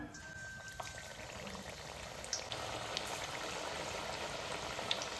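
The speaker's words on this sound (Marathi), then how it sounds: "कढईमध्ये तेल गरम झालेलं आहे आता आपण त्यामध्ये आलूवडी सोडू सोडून घेऊया" Alu vadi colocasia rolls sizzling in hot oil in a kadhai, a soft steady bubbling fry that stays fairly quiet and continuous, with a few small pops.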